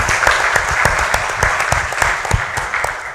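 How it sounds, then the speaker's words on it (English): Room full of attendees at a Caribbean climate leadership event applauding an AMCHAM organizer, a dense, steady patter of many hands clapping, close and loud, lasting the whole stretch without talk. "Please give her a round of applause"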